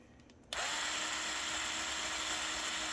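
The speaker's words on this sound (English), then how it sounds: "I'm going to take my 1/16 drill bit and I'm going to go ahead like this" A small power drill with a 1/16-inch bit starts abruptly after a short quiet moment and whines steadily at high pitch, close and continuous, with no talking.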